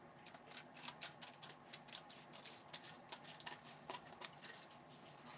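Scissors make quiet, repeated snipping cuts in an irregular rhythm, close by and faint, with no talk over them.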